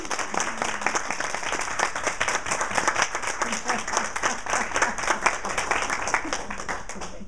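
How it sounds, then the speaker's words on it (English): Audience applause at an award presentation, a steady sustained clapping from a modest crowd with individual hand claps distinct, continuing evenly throughout. "So Lee, let's all give Lee a round of applause."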